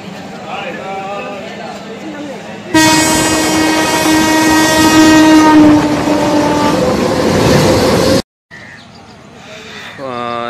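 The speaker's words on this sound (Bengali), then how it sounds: "ট্রেন দিয়ে যেতে যেতে অনেক স্টেশনে চোখে পড়ল" A passenger train on a Bangladeshi rail line, heard first as a rumbling run, then a long, loud horn blast held for about five seconds, followed by a brief drop-out and more rolling train noise.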